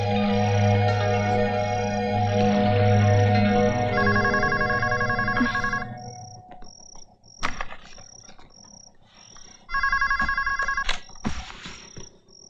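A telephone ringtone chirps in repeated electronic bursts, loud and close, over a backing music bed that drops out midway, leaving the ring alone.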